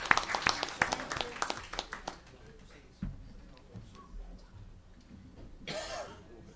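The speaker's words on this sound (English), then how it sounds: "give him another round of applause" Scattered hand clapping from a small audience at a Millville city council meeting, brisk at first and then thinning out into a few isolated claps and room noise, with a brief rustle near the end.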